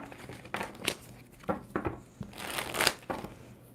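Tarot cards are shuffled in several quick riffling bursts, crisp and close, with short pauses between them.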